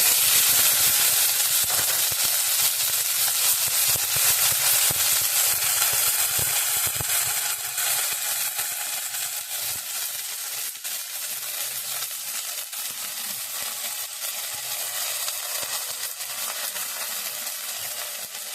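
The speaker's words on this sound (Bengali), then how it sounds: "কড়াইতে দিয়ে দেবো এবারে তেলটা গরম হয়ে গেছে কাঁচা লঙ্কা হিং আর একটু আদা দিয়ে দেবো তেলের পরে" Green chili, asafoetida and ginger hiss and crackle in hot oil in a pan while an aloo paratha meal is being cooked, a loud, continuous frying sizzle that holds for the whole stretch and eases only a little later on.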